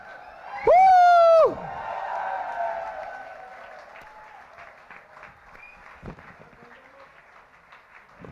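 Crowd at a film music launch erupts with a loud, shrill whistle followed by sustained applause and cheering, a broad roar of clapping and whoops that slowly fades into scattered claps.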